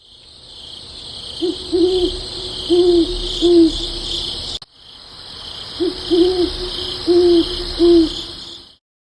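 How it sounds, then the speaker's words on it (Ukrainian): An owl hoots in two bursts of three low calls each, over a steady drone of crickets or insects in the background. "Це сова"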